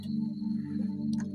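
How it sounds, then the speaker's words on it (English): Synth tone on a second keyboard, the aux patch used for solos, rings as a sustained low, steady note with a thin high overtone, ending in a brief burst of brighter sound. "So this is one of my favorite tones. I like using this synth tone."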